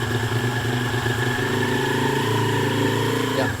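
A Honda C70 motorcycle engine idles steadily at close range, a continuous low throbbing hum with no talk, a brief change in tone near the end.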